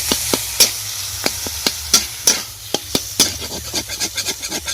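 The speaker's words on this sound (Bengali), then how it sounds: "এবার আমি দিয়ে দিচ্ছি ফুলকপি আর আলুটা ব্রেড করে যে রেখেছিলাম সেটা দিয়ে দিচ্ছি ভালো করে নেড়ে নেব মশলাটার মধ্যে" Cauliflower and potato get stirred into spices in a pan, a spatula scraping and knocking in quick, uneven strokes over a low sizzle, close and fairly loud.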